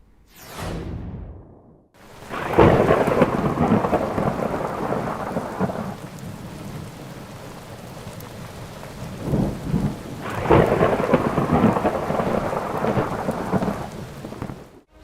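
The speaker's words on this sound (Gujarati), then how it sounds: "ઉત્તર ગુજરાતના અનેક વિસ્તારોમાં કમોસમી વરસાદ વરસ્યો" Heavy unseasonal summer rain in north Gujarat pours steadily while thunder rolls in two long, loud bursts, with a quieter stretch of rainfall between them.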